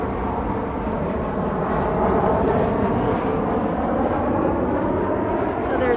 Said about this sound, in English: Oh, and there's the plane